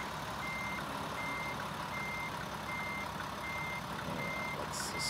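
A truck's reversing alarm in a truck-driving video game, American Truck Simulator, beeps in a steady, evenly spaced series over a low engine rumble, moderately distant and quiet.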